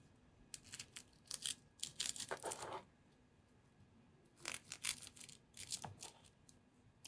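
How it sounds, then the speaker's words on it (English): Knife slicing through a sushi roll on a board, bursts of soft close scraping and crunchy cuts in two groups separated by a quiet pause, fairly faint. "Just cut it into pieces."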